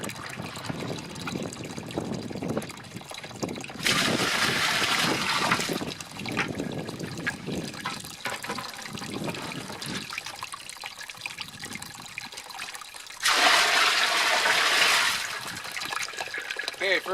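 A garden hose pours water into a trashcan, a rushing gush that surges in two louder bursts between stretches of softer trickling, with a person talking nearby.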